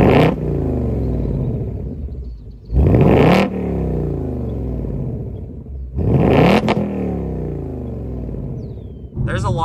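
A 2024 Ford Mustang GT's 5.0-litre V8 revs hard during acceleration runs, three loud bursts climbing through the gears with steady engine drone between them.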